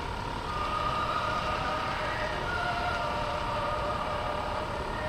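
A model train runs continuously through a Christmas village display, a steady mechanical rumble and hum at moderate level with no talk.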